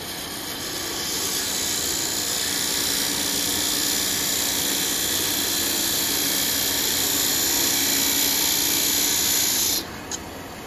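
Wood lathe spinning a small wooden tippy top as a tool cuts shavings, a loud steady whine and hiss that holds for about ten seconds before dropping off, close up with no talking.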